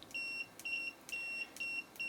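A Southwire 15190T multimeter in continuity mode gives five evenly spaced, high-pitched electronic beeps, each about a third of a second long, clear and alone over a quiet background.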